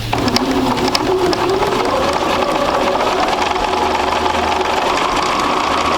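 A sewing machine stitches quilt squares corner to corner in a steady, close mechanical whir with a rapid needle rhythm running throughout, alone without talk.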